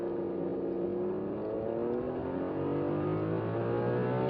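A Rolls-Royce Black Badge Cullinan V12 SUV accelerates hard from a standstill in low drive mode, its smooth engine note rising steadily in pitch through a single long pull, heard from inside the cabin.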